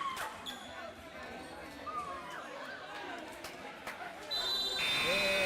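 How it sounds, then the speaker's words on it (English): At a high school basketball game between Glenwood School and Autauga Academy, the final buzzer blares loud and sustained near the end, over crowd chatter and ball bounces, with a commentator talking. "there's your final buzzer"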